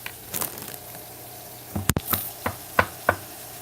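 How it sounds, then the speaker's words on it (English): Garlic chopped with a knife on a cutting board while cooking dinner: a handful of sharp, close knocks at irregular intervals over a quiet kitchen background. "I was chopping right next to your ears."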